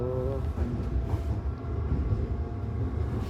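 A steady low rumble and rattle of a moving train in Germany, heard from inside the carriage, continuous and fairly loud with no voices.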